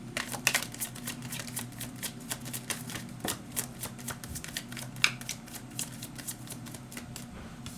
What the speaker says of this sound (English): We're gonna get one more card from this deck